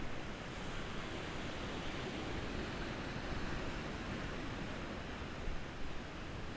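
Sea waves wash in a continuous, even roar of surf with no clear breaks, steady and fairly soft throughout, with no voices.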